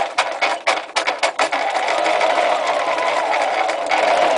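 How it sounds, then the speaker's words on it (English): A sewing machine stitching a rucksack runs in short bursts at first, then settles into a steady, continuous mechanical whir of stitching, close and fairly loud. "so that our rucksack fits into the bridge of the sewing machine"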